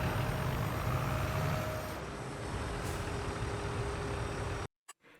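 A JCB farm vehicle's engine in Farming Simulator 22 runs at a steady, continuous drone, then cuts off abruptly near the end.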